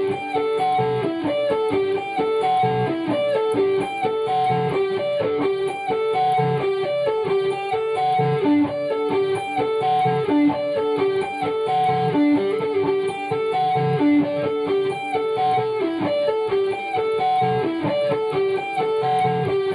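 Distorted electric guitar plays a song intro, a steady, bright, repeating arpeggiated riff of quick picked notes, continuous and alone for about twenty seconds.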